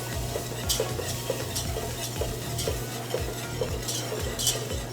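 Butter melting in a saucepan while a spoon gives a few quick stirs, a steady low sizzle with repeated soft scraping strokes close up, in a Southern home-style kitchen.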